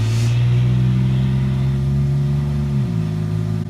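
A V6 car engine revs loudly and steadily in a deep, house-shaking drone, its pitch holding high before dropping near the end, close and alone with no talk over it.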